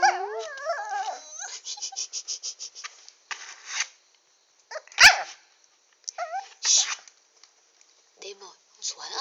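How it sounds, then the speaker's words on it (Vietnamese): A small dog barks and whimpers indoors at night, a string of short yaps and whines spread through the clip, with one sharp louder burst in the middle and a person speaking softly between the sounds. "Đêm rồi, không sủa nữa."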